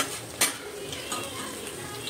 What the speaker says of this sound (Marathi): आता आपण ना तेल टाकलं, त्याच्यामध्ये लसूण आणि थोडंसं आलं टाकलं टाकून.